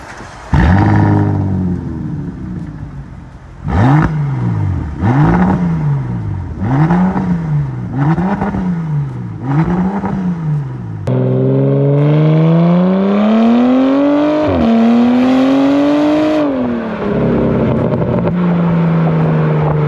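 A Bentley Bentayga Speed W12 engine blips up to its 4,000 RPM limit about five times in quick succession, then holds a long, loud climbing rev that swells and falls away, heard close with no talk.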